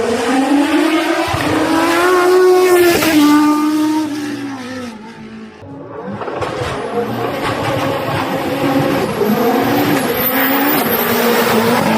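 A Lancia Delta Integrale rally car roars past on a mountain road, engine loud and close with rising and falling revs, a brief dip as it passes, then another high-pitched whine carrying on.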